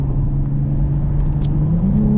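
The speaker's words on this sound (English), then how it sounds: "downshift. My gosh, this thing feels great." Lexus IS 350 F-Sport engine, a 2024 model, holding a steady close rumble under load, with a faint rise in pitch toward the end as the gears drop.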